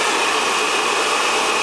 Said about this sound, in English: then I blow dry this section